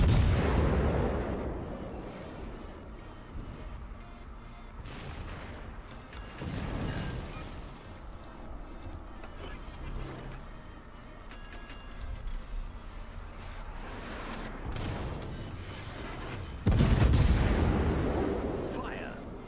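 Warship guns boom repeatedly in the naval video game World of Warships, with heavy deep blasts spread across the stretch, the loudest near the end, over a rumbling background and occasional talk.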